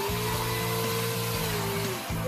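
A chainsaw runs loud and steady while cutting tossed fruit outdoors, giving a continuous buzzing engine whine with brief dips in pitch and no talking.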